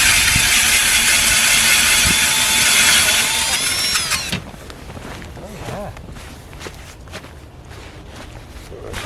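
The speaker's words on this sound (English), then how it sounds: "we're going to drill a hole" An ice auger drills loudly and steadily through lake ice for about four seconds, then cuts off, leaving quieter scraping and shuffling sounds.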